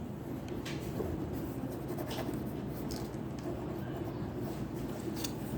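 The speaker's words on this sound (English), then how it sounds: "Let me write it for her real quick." A pen or pencil writes by hand on paper with a continuous soft scratching, close and fairly quiet over a low room hum, with no voices.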